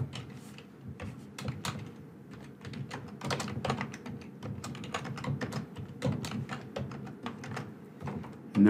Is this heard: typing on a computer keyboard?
yes